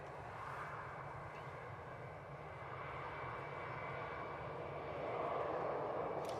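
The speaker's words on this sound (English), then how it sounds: "I just seen it come out. It's the KLM E2." A KLM Embraer E2 jet at Manchester Airport produces a steady, broad engine roar that swells slightly toward the end, heard at a distance with no talking.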